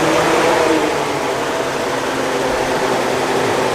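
A cold Ford V8 Pilot engine with a newly converted motor and a freshly tightened distributor runs loud and close, a steady broadband roar with no voices.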